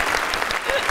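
A brief patch of light hand clapping, one person applauding, with a voice talking over it.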